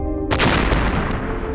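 A cannon sound effect fires once, a loud sudden boom with a sharp crack that rolls into a long rumbling decay, heard alone.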